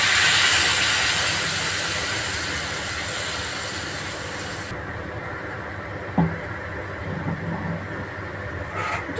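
Water hits a hot pan of frying chara pona fish being cooked with Malabar spinach: a loud broadband sizzling hiss that drops off sharply midway, followed by a brief clatter and quieter bubbling, with no talking.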